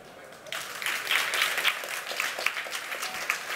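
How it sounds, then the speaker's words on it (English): Audience applause fills a conference hall after a blockchain bridge talk at a Polkadot event, a steady dense clapping that starts abruptly and holds at a fairly even level. "Let's give a round of applause."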